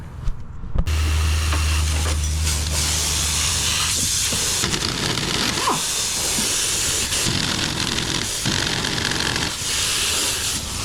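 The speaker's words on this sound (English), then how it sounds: "Sounds like steam escaping." Steam hisses loudly and continuously from the engine of a 1983 Mercury Capri RS, abandoned for 20 years, a harsh broadband rush that starts abruptly after a brief pause, with a low hum early on.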